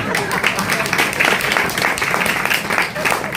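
A church congregation in a Tamil service claps harder and louder after being urged on, a full, sustained burst of applause filling the hall from start to finish.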